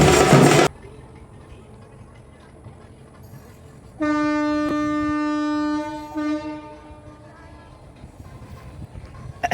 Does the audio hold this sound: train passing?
yes